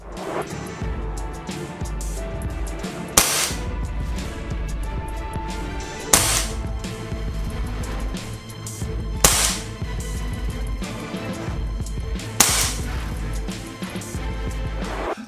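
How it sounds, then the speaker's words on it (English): Shots from an ASG Bersa BP9CC gas blowback airsoft pistol come as four sharp, loud cracks spaced about three seconds apart, each over a background of music. "Look, 2 shots. 2 BBs came out at the same time."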